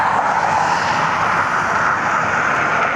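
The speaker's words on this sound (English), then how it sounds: "And here's the United Express E175 that's heading to Norfolk." A United Express Embraer E175 regional jet at Cleveland Hopkins airport gives a steady, loud engine roar with a broad hiss, sustained and unbroken throughout.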